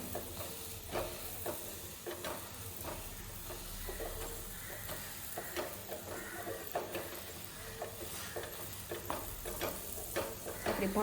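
Ragi and wheat bhakhri flatbread sizzling in peanut oil on a hot pan, a steady dense hiss with scattered crackles and occasional scraping of the flatbread being pressed, continuous throughout with no talk.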